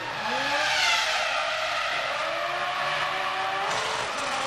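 A Formula 1 race car at the 2002 Austrian Grand Prix whines loudly near the pit lane, its high engine note rising and falling steadily over a continuous roar with no talk.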